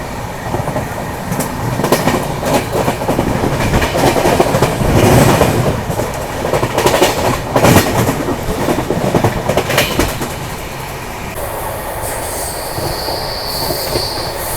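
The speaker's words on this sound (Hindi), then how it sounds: "फिर वंदे भारत एक्सप्रेस निकली किसी ICF ट्रेन को ओवरटेक करते हुए।" A Vande Bharat Express train rushes past while overtaking an ICF train, with loud sustained rumble, rail clatter and wheel squeal rising and falling, then a steady high whine near the end; no talking.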